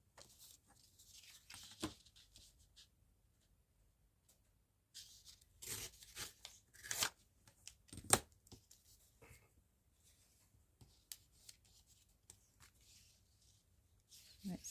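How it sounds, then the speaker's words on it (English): Paper being torn by hand to give a rough edge for a botanical junk journal masterboard, heard as faint, scattered ripping bursts between quiet stretches, close and soft. "Because I kind of want that rough edge look in the main. That's why I'm tearing."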